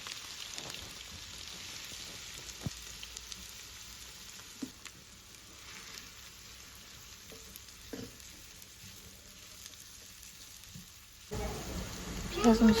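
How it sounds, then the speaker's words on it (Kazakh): Chopped onions fry in oil in a hot pan for a dolma filling, giving a steady, fairly soft sizzling hiss with occasional light clicks and a louder crackling burst near the end. "Қызып тұрған табамызға майымызды құйып, пиязымызды салып, сәл қызарғанша қуырып аламыз."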